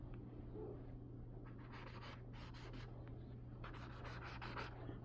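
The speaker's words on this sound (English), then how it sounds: "I'm gonna use a regular Sharpie. So what I end up doing is I'll draw like a few of these guys." A regular Sharpie marker squeaks and scratches across paper in short bursts of strokes while sketching comic thumbnails, close and quiet over a steady low room hum.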